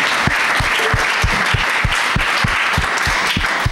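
A church congregation at an Easter celebration at the Catholic church in Koungheul applauds with dense, close, steady clapping throughout.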